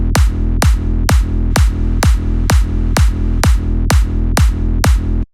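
Electronic dance music claps with an LFO tool cutting off the reverb tail, about a dozen loud, evenly spaced hits over a steady low tone, each one ending sharply.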